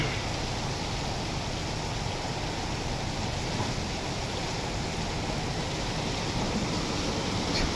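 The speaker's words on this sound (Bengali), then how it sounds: "এখন হচ্ছে স্বস্তির বৃষ্টি" Steady, even hiss of rain falling during a windy downpour after hot weather in Chauddagram, a continuous moderate wash of noise with no voices.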